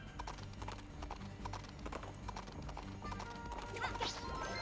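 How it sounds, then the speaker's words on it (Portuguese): Horse hooves clip-clop steadily in the video game Princess Peach Showtime, a brisk rhythmic trot set against a busy game soundtrack of music and effects, fairly quiet overall. "Olha o cavalinho. Olha o Pocotó."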